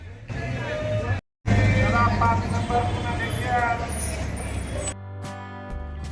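A bus pulls in among crowds and busy Pune street traffic, engine rumble and air-brake hiss mixing with steady road noise while a voice talks over it.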